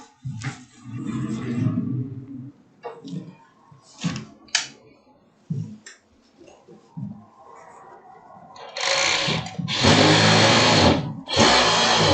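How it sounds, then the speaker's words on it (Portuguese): An overlock sewing machine closes the seams of a halter-neck dress in short stop-start bursts of fast whirring, ending with longer loud runs; a voice talks in the gaps. "Agora vamos para o overlock de novo para a gente fechar"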